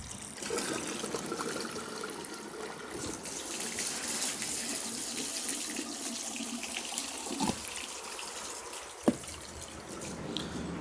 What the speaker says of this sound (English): Now let's see if it can flush.